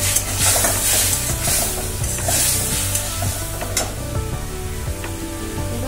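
Green peas frying with spices in a wok-like pan alongside boiled cauliflower and potato, a steady close sizzle with repeated scraping stirs of a spoon against the metal throughout.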